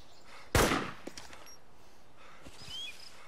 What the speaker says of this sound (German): Schießt der auf dich?